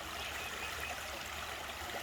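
A gold-bearing creek flows steadily, a soft continuous rushing and babbling of water, faint and unbroken with no voices.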